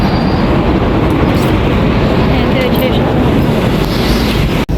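A train rumbles past close by, a steady loud roar of wheels and engine filling the whole stretch without a break.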